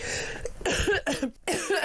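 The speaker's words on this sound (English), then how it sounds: "I do apologise for the cough." A few harsh, raspy coughs in close succession, loud and near, with short pauses between bursts.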